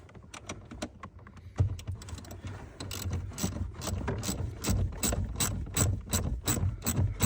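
A socket ratchet clicks in quick repeated bursts while tightening the battery terminals on an Audi Q7 3.6L Quattro. The clicks are close and sharp, speeding into a steady run of strokes in the second half, with no speech.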